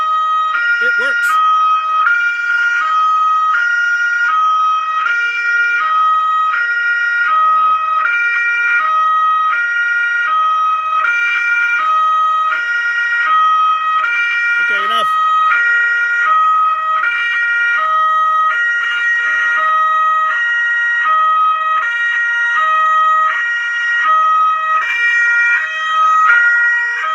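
A Powercall USB6100 MP3 100-watt siren amplifier plays back a recorded siren in a warehouse, giving a loud, steady wailing tone that rises and falls in repeated cycles, with a couple of brief bumps and clicks along the way.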